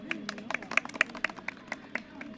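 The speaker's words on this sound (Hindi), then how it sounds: "तालियां इनके लिए बजाइए" Scattered, fairly faint claps from a small group of female students in a classroom session, irregular and thin rather than full applause, with a soft voice briefly audible underneath.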